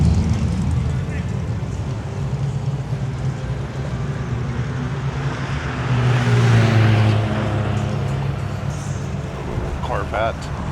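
A Corvette passes on a city street in Minneapolis on a windy day, its engine noise swelling to a peak midway and then fading, over constant wind and traffic rumble.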